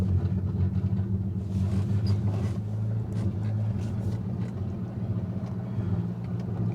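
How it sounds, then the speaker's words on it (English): A Mercedes 190E runs with a low, steady engine rumble, close and continuous, with faint clunks and rattles over the drone. "We're just going to drive the thing."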